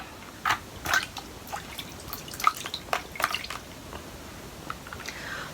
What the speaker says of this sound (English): 5 little ducklings get into the water and splish splash away.